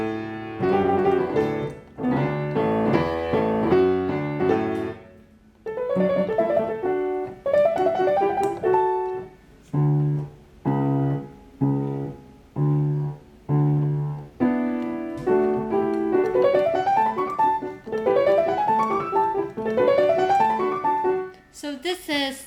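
A piano plays the lower part of a Mozart four-hand sonata alone, close and clear, with phrases of repeated chords and rising figures broken by short pauses.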